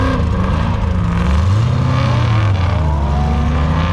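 A Corvette Z06 and a 1968 Camaro launch off the start line at an SCCA Pro Solo autocross in Fontana, engines roaring loud and close with rising revs that swell and shift pitch as the cars accelerate away.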